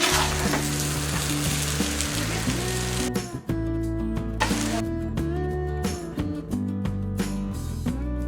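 Tawa pulao sizzling in a pan as lemon juice is stirred in, a continuous crackling fry with occasional scrapes, under background music with no talking.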